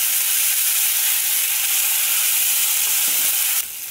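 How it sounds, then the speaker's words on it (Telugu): Ginger garlic paste frying in a pan for stuffed brinjal curry, a steady, loud bright sizzle that holds evenly and then drops slightly at the end. "అల్లం వెల్లుల్లి పేస్ట్ ఇలా పచ్చివాసన పోయేంత వరకు వేయించిన తర్వాత"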